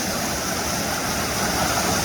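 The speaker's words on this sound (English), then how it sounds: "The water is hitting the bridge," Floodwater surges against a leaning bridge with old railroad ties, a continuous loud, dense roar of rushing water with no pauses.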